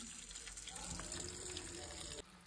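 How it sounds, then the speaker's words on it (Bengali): Tap water runs steadily into a vessel of rice being washed, a dense continuous gush that briefly drops off near the end. "চালটা আমি ধুয়ে নেবো এবার ভালো করে।"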